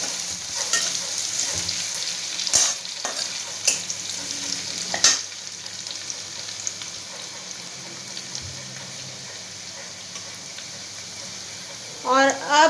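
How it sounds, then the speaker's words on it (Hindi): Chopped ginger and garlic frying in a pan for a paneer paratha filling. A soft, continuous sizzle sits close by, broken by occasional stirring clatters and scrapes. "और अब देखिए ये लहसुन भी पक चुका है, और अदरक भी पक चुका है"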